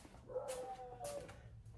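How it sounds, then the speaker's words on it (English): A dog gives two short, high whining barks or yips, somewhat distant, over a low steady hum. "There must be somebody, one of the neighbors out for something for him to be barking like that."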